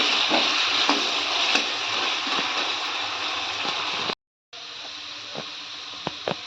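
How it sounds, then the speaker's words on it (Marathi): Potato pieces fry in oil in a pan, a steady crackling sizzle with occasional sharp pops and stirring clinks, briefly cutting out before resuming. "बटाटा चांगला तेलात परतून घ्यायचा."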